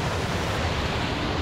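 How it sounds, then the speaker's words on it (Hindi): Water flowing at Nako Lake in Spiti Valley, heard as a steady, even rushing wash that fills the whole stretch without a break, with no voices over it. "यहाँ पे पानी बह रहा है."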